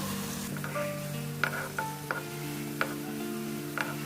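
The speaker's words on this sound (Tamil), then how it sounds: "நான் லோ ஃப்ளேமில் வச்சு தான் நான் வந்து பொரிச்சு எடுக்கிறேன்." Gulab jamun dumplings frying gently in oil on a low flame: a soft, steady sizzle with a few light clicks from stirring in the pan, faint and without talking.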